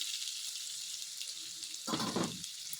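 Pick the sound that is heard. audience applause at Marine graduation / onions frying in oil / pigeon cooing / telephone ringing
onions frying in oil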